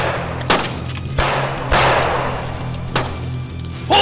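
Gunfire rings out in a black-and-white feature film chase scene, several sharp separate shots spaced irregularly over a few seconds, loud and close, each with a short ringing tail over a low background hum.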